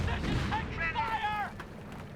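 A sector artillery barrage in Company of Heroes, a World War II strategy game with US against Panzer Elite, rumbles and booms beneath a commentator talking over it.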